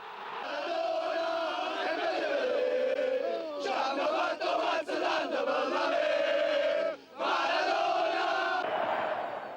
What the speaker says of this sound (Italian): E Napoli canta.